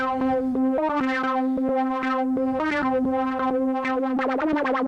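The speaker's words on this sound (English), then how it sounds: "if I turn it all the way up, you'll hear that the filter will start to go like this." A Korg Volca synthesizer plays a steady harmonic pattern of repeated notes while the filter cutoff is modulated, so the tone keeps sweeping brighter and darker. It is loud, close and continuous, with a buzzy, effected character and no talk.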